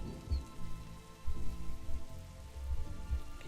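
Soft rain falling in the Darkside Detective video game, a faint low pattering with gentle rumbling swells and a small sharp click at the very end.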